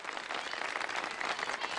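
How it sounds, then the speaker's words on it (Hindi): Studio audience on a Ramzan iftar game show claps together, a steady, even wash of many hands at moderate volume with no voices over it. "बाजी को तालियां बजा दें इनके लिए"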